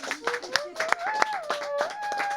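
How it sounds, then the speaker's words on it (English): Scattered applause for a studio guest on a talk show, a few sharp, irregular claps under a voice that keeps talking throughout. "Give her a round of applause."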